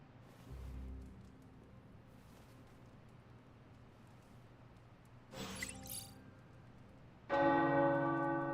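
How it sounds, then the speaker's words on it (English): Tower bells ring out in the Marvel Midnight Suns game, a few distant strikes followed by a loud, resonant peal that sustains with a shimmering hum. "The tower bells are ringing."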